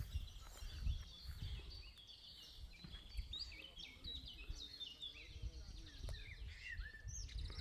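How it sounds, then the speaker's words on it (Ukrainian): Small birds chirp and twitter repeatedly at a moderate distance, with soft rustling and low ambient noise throughout, outdoors beside ripe wild rose bushes on a bicycle route between Rivne and Mizoch, Ukraine. "Якісь пташки там скригочуть."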